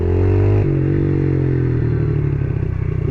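Pit bike motorcycle engine while riding in a game of pit bike soccer, a loud, close, continuous engine drone that shifts pitch twice as the throttle changes, with a gritty rattling texture throughout.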